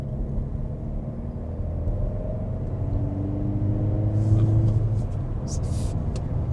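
A Volkswagen T-Roc diesel car accelerating, its low, steady engine drone rising gently in pitch and loudness while the engine stays fairly quiet throughout.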